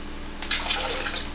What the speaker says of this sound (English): I'll put in a little bit of water too.